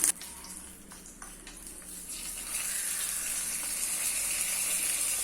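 Dried red chillies and curry leaves, tempered in hot oil with mustard seeds, are poured into a banana stem buttermilk curry. A loud, steady sizzling hiss swells after a couple of seconds and keeps going with no talking.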